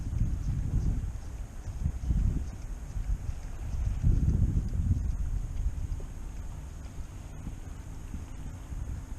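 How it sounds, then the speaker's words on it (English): Wind gusts roar across the microphone on a fishing boat trip out of Texas City, Texas, swelling in low rumbling bursts over a steady hiss of open water, with no talk. "That wind sure feel good."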